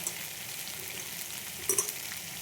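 Spice-coated lote (Bombay duck) fish frying in a pan, a steady broadband sizzle throughout with a brief louder crackle and pop near the end, no voices.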